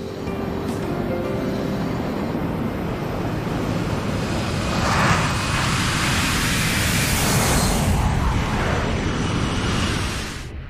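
A passenger airplane takes off, a broad roaring rush of jet engine and wind noise that swells steadily toward the middle and stays loud and close throughout.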